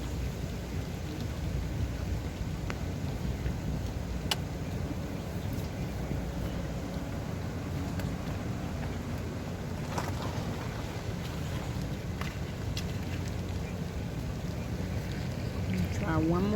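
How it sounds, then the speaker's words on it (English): Rain setting in during Hurricane Ida, a steady, dense hiss with low wind rumble that holds at an even loudness throughout, with a few faint clicks and knocks on top. "Here comes the rain."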